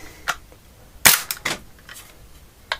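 A BB gun fired through a chronograph, one sharp loud crack followed by a few smaller clicks and taps nearby, close to the mic with no talk.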